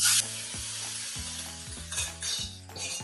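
White cowpeas drop into a hot oil tempering of dried red chillies, asafoetida and curry leaves, setting off a loud close sizzle with scraping stirs and a faint metallic clatter, while a low hum continues underneath.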